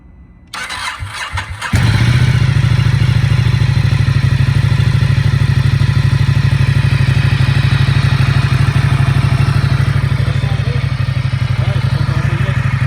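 A Ducati motorcycle engine cranks with a brief clatter, then catches and settles into a loud, steady, throbbing idle close by.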